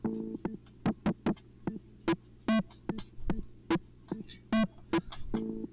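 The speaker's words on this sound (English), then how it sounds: "this is a little rhythmic loop from a Casio SK1" A lo-fi Casio SK-1 keyboard plays a repeating rhythmic loop of short percussive hits and bleeps over a low hum, fairly quiet and mechanical.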